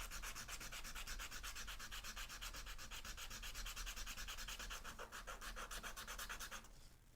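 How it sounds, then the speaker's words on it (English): Sandpaper rubbed back and forth over a roughly cut part of a handmade designer toy, a steady rapid rasping rhythm that runs continuously, close and fairly even in loudness before stopping near the end. "We're gonna take the sandpaper."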